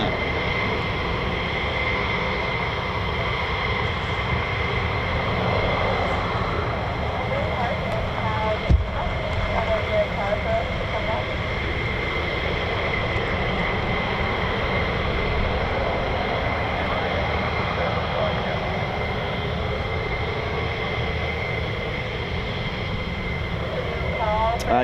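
A US Air Force F-15 fighter jet of the 492nd Fighter Squadron at an RAF base produces a continuous loud engine roar with steady whining tones, voices faintly audible beneath it.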